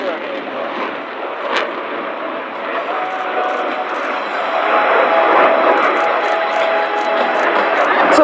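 An Italian Air Force Eurofighter Typhoon jet roars through a rate turn at an air show, loud sustained engine rumble swelling louder toward the end, with a faint commentator voice underneath.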